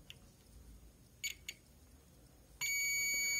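Faint clicks and brief taps on a motherboard, then a steady high multimeter continuity beep starts and holds continuously at the end as a capacitor tests connected to the RAM circuit, close and clear.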